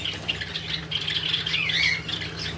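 Pet birds such as lovebirds, java sparrows and cockatiels squawk and chirp continuously at a bird sale, a dense, busy chorus of overlapping shrill calls close by with no talking.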